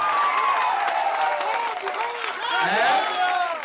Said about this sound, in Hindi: ताली बज गया